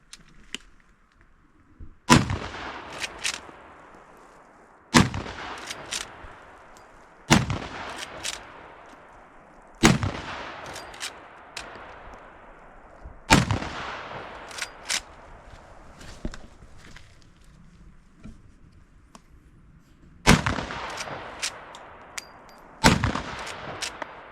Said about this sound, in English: In the handgun, I'm shooting 350 grain hollow points.